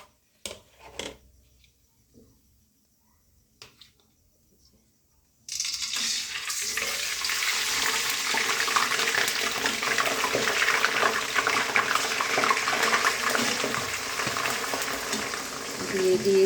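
Ginger paste dropped into hot oil for a sun-dried oil pickle: a few faint clinks at first, then a sudden loud, continuous sizzle that holds steady close by until the end.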